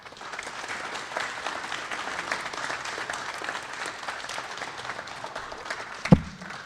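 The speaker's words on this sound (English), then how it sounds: "give another round of applause for these inspiring students" An audience at a student wallbreaking ceremony applauds steadily, a dense, moderately distant patter of clapping that holds throughout, with a single sharp knock near the end.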